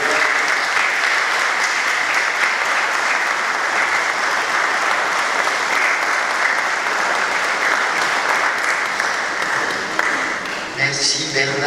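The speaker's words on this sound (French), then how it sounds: "les applaudir pour les encourager." Sustained congregation applause in a church during a family Mass, encouraging the parish team sent on mission; steady dense clapping fills the whole span, fading slightly at the end as a voice begins to speak.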